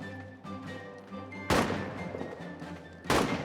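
Gunfire in the World War I trench game All Quiet in the Trenches: two loud, close shots, each cracking sharply and then rumbling away over a busy background of battle noise.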